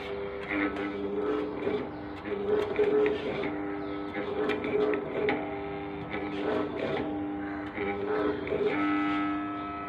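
A faulty stand fan with a motor struggling to turn gives a steady droning, rattling noise that stays loud and continuous, close by, with someone talking over it.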